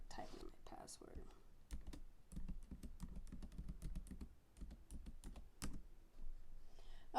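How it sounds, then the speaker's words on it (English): Quick, light clicks of fingers typing a password on a computer keyboard, irregular bursts of keystrokes with short pauses, close and fairly quiet. "I'm going to type in my password."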